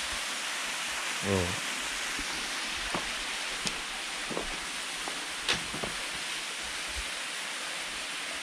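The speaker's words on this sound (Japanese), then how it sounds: "滝となるとこんな感じ。" Waterfall on Mount Mitake in Ome, Tokyo, gives a steady, full rushing hiss of falling water, unbroken throughout, with a brief murmured voice and a few faint knocks over it.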